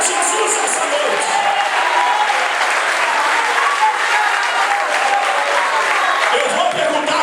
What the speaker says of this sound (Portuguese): Aplaude a Jesus essa noite.